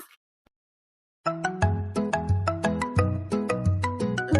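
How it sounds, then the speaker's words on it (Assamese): After a short silence, a melodic phone ringtone starts and plays a repeating chiming tune, loud and close. "কোনে ফোন কৰিছে? স্নেহাই ফোন কৰিছে দেখোন"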